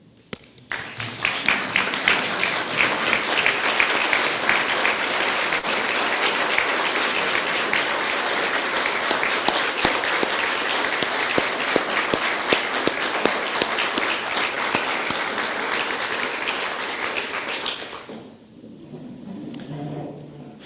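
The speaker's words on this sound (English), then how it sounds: "I ask you again to stand and applaud" Sustained, enthusiastic standing applause from the audience at a Rotary Club of Toledo meeting, loud and dense for most of the stretch before tapering off abruptly near the end.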